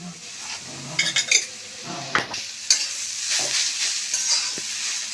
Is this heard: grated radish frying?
yes